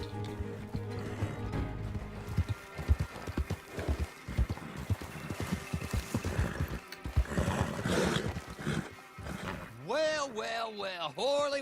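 Horse hooves clip-clopping in the video game Red Dead Redemption Online, a steady trotting beat mixed with game music and other effects, with a few brief animal calls near the end.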